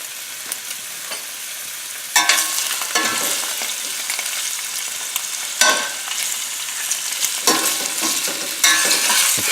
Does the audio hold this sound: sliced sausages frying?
yes